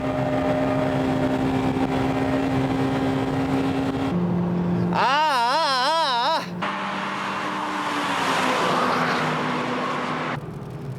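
A Honda Civic Type R and a Toyota MR-S race uphill at the SUGO circuit in 2000. Engines drone and rev loudly and up close, with a sharp high wavering whine partway through, while a commentator talks over them.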